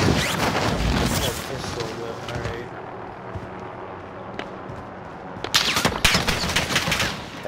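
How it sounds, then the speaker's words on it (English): Bursts of automatic gunfire crack out in a Call of Duty Warzone firefight, loud rapid volleys at the start, a quieter lull, then more shots near the end, with players talking over the action. "I'm about to try shooting his ass"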